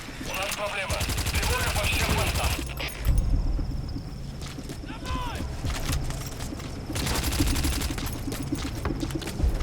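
Rapid bursts of gunfire in the video game Metal Gear Solid 5: The Phantom Pain, fired with rubber bullets, crackle almost continuously across the clip, loud and dense, with a few short pauses and a voice talking underneath.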